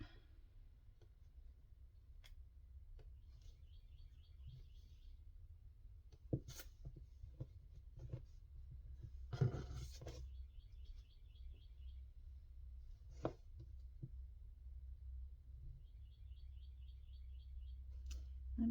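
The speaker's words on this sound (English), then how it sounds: "The birds are out there chirping today." Small birds chirp outdoors on a spring day, with short clusters of high, twittering calls at a distance. They sit over a low, steady background rumble, and a few sharp clicks and taps sound close by.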